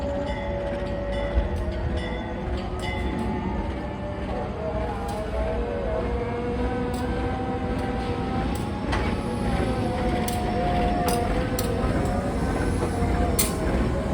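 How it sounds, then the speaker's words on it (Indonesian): Sri Tanjung economy train running while crossing the Tawang Alun train near Jember: a continuous, loud rolling rumble and rattle heard from inside the carriage, with faint squeals and clicks of the wheels on the track. "Silang sama kereta api Tawang Alun 2018901 di Pondok Jember."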